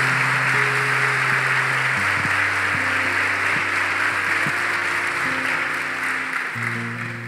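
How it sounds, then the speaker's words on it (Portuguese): A church congregation at a Catholic service claps loudly in a dense, sustained roar of applause lasting several seconds, with steady music tones held underneath throughout. "Vamos dar uma salva de palmas bem forte"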